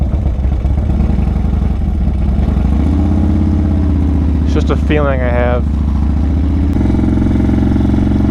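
A motorcycle exhaust drones loudly and steadily while riding on a solo cruise, a constant low engine rumble that shifts pitch partway through, with someone talking briefly over it.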